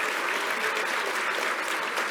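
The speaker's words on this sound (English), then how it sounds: "Everyone, please clap for my guests, Austin, Alexa, and Eric." An audience at a PAX East 2016 stage show claps steadily, a dense continuous wash of applause filling the space from start to finish.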